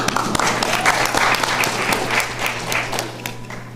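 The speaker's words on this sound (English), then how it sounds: "You can applaud for her, too." Steady, loud applause from the audience at a Mableton city council meeting for a newly sworn-in councilwoman, many hands clapping continuously over a low electrical hum throughout.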